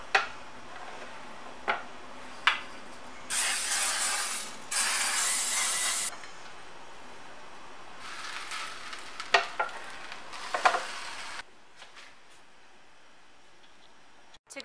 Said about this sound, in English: I'm going to put the sandwich in my panini press, but instead of using butter or oil, I'm going to use the cooking spray from earlier.